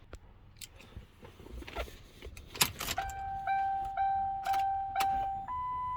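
Ignition key turned in a Lincoln Town Car: a jingle of keys and a click, then a series of steady chime tones repeating several times, close and clear in a quiet cabin.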